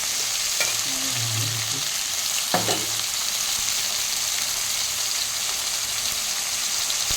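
Tomatoes going into sautéed onions in a pan, a steady sizzle with a couple of brief clinks and scrapes near the start, then a constant hiss.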